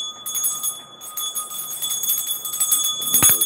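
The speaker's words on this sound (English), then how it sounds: "everybody should have a bell. The bell helps remove the negative energy." A bell rings repeatedly during a ceremony meant to clear negative energy, bright sustained metallic tones layered over rustling and shuffling, with a louder clattering strike near the end.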